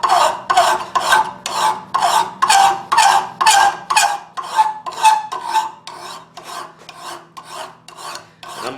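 Steady rhythmic rasping of a metal file drawn over a knife blank clamped in a vise, about twenty strokes close up; each stroke is sharp and even, fading slightly toward the end, with no talking.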